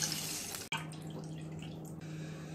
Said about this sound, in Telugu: అదే ప్యాన్లో 2 కప్పుల వాటర్ వేసుకోవాలి.